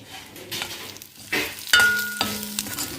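Spice masala with coconut frying in a pan, soft crackling and sizzling with a few sharp scraping and clinking strokes of a utensil, close and intermittent, no talk.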